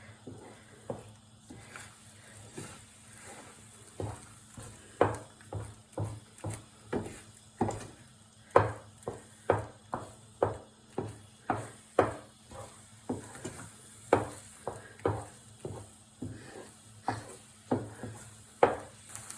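A spatula steadily stirs thick biscuit halwa with ghee in a pan, scraping in a regular rhythm of about one stroke per second, close and moderately quiet with no talking.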